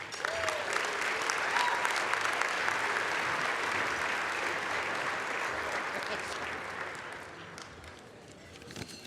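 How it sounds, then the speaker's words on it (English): Sustained applause from a crowd, dense steady clapping that holds for most of the stretch before tapering off near the end. "Please join me giving a round of applause to Governor John Hickenlooper"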